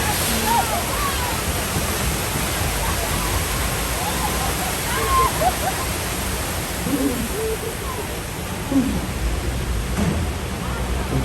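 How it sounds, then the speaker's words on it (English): Simulated water main break on a Universal Studios Hollywood studio tram ride during an earthquake effect, loud continuous gushing and rushing water filling the clip with a few faint voices and squeaks over it. "Oh no, the water main broke."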